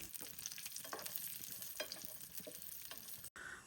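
Nuts and raisins fry in hot ghee in a pan, a steady close sizzle with soft stirring scrapes throughout, then a sharp cut near the end.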